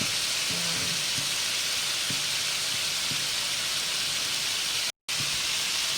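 Fish sizzling in hot oil in a home kitchen pan for an asam and soy sauce fish dish, a steady bright crackling hiss throughout, close and continuous, with faint background hums and a brief dropout near the end.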